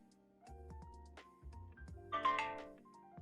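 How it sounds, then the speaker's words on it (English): A phone ringtone chirps in short melodic bursts, ending in a brighter trill, quiet and close with no talk over it. "Hello, phone. Do you want to talk?"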